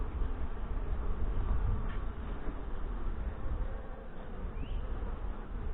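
A dense, steady buzz of many honey bees working a Saskatraz hive frame, close and continuous with no talking.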